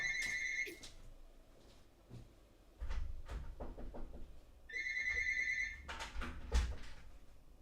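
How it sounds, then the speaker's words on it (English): A phone ringing in a room, two bursts of a bright electronic ringtone at the start and midway, mixed with low thumps and handling noise and no talk. "I have my phone ringing."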